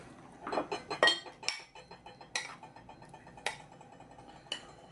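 A scoop of Vietnamese sticky rice with black-eyed peas is served onto a plate, with several close clinks and knocks of a utensil against dishware in an irregular rhythm and no talk.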